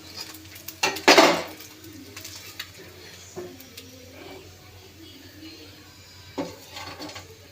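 A metal utensil clinks and scrapes in a pan as fried morla fish are lifted out. There is one loud clatter near the start, then softer taps and scrapes spread through a quiet kitchen.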